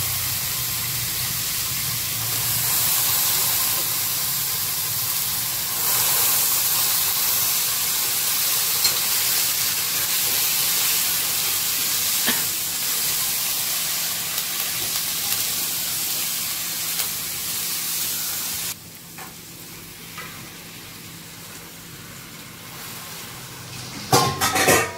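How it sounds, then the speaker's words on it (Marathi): Washed, still-wet mixed vegetables hit a hot tempering in a pan for a Bhogi-style bhaji, giving a loud hissing sizzle that gradually settles into a softer steady fry, with occasional stirring clatter and a scrape at the end. "आणि आता ही भिजवलेली भाजी, भिजवलेली म्हणजे धुवून घेतली सगळी मिक्स भाजी आहे ती आता मम्मीने टाकली फोडणीला"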